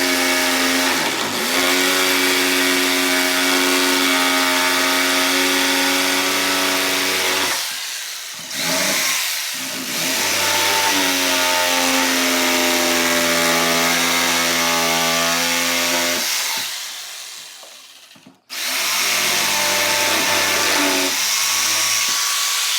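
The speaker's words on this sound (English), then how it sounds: "jigsaw, cut out your shape." A jigsaw cuts through a wooden board for a pickup bed divider. The motor whine is loud and close, with its pitch shifting under load, and it stops twice briefly before restarting.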